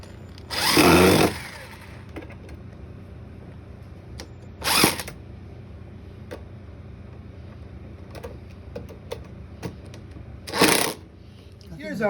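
A power drill bores pilot holes in angled wood in three separate short bursts, each a loud whirring grind of about a second, with quiet handling noises and small taps between them.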